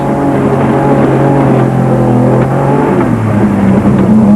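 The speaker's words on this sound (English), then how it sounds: "Inside the Nissan hardbody of Probler and Prinsloo, the view looked more like the setting for a powerboat race" A Nissan Hardbody off-road race truck charges through a swamp at a swamp buggy off-road racing event, its engine a loud, steady, close roar that shifts pitch as it revs, with no voices.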